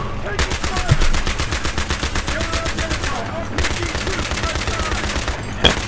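Gunfire in the Battlefield 3 video game, sustained rapid machine-gun bursts in a steady rhythmic stream, loud and close, with brief gaps and some voice underneath.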